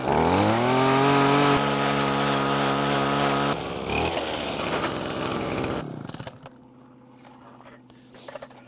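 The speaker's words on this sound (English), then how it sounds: "And then we have an ordinary drill, and just like this," An ordinary hand drill boring into frozen lake ice at a winter test center in Sweden, a loud steady motor whine that shifts pitch as it bites, then slows and fades to a quieter rumble near the end.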